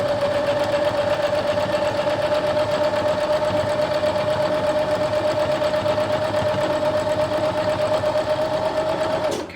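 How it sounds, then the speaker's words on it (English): A sewing machine runs continuously at a quarter-inch seam, stitching a border strip onto a quilt with right sides together; the steady close whir holds an even pitch throughout and cuts off abruptly at the end. "And just stitch this strip down."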